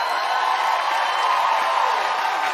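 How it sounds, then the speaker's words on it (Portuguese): Studio audience on a Brazilian TV variety show, a dense, loud and continuous wash of crowd noise with cheering, sustained evenly through the whole moment. "Aplausos."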